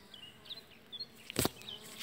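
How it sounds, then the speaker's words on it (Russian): A bee buzzes close by in a vegetable garden beside a lawn of flowers, a thin droning hum drifting in and out in short bursts before one sharper rustle. "Пчелка."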